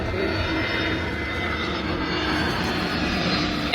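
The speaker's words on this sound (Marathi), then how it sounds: "प्लेन येयत आहाय" An airplane passes over Dubrovnik, its steady, moderately loud engine drone filling the few seconds without any talk.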